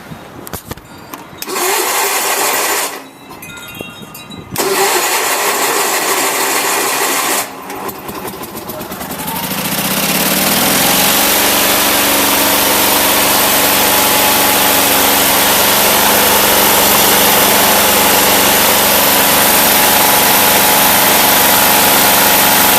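An Onan 16 hp engine with a freshly repaired carburetor, choked for starting, cranks in short bursts, then catches and settles into a loud, steady running roar that continues to the end.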